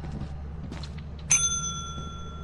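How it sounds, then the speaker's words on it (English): A single bright bell rings in the video game Lethal Company, one clear strike that rings out and sustains over a low background hum. "Ring the bell again."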